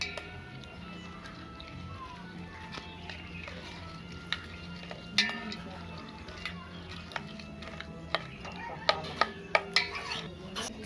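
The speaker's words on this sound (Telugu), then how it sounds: "ఇప్పుడు మొత్తం మిక్స్ చేసుకోవాలి" A spoon clinks and scrapes against a bowl in scattered soft knocks, growing a little busier toward the end, over a quiet room hum.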